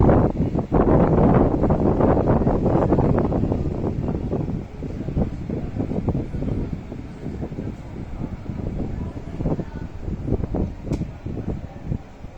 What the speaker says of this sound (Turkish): Çok serin, çok güzel esiyor.